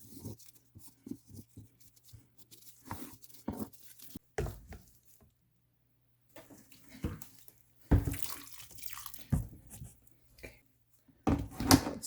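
Water splashes and trickles in short, quiet bursts as a plastic worm bin that held European nightcrawlers is rinsed out, with handling clatter and pauses between pours.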